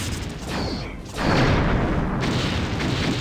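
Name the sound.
starship torpedoes firing in Star Trek Bridge Commander video game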